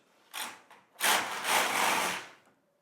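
Carriage of a Singer Solo hand knitting machine pushed across the needle bed for one row at a large stitch size: a short rasp, then a longer, louder sliding whoosh lasting about a second and a half, close and alone.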